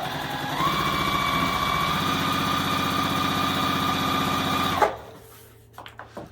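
A sewing machine chain piecing quilt pieces, a steady close whirring hum with a rapid needle rhythm that runs for about five seconds, then stops abruptly, followed by a few small clicks.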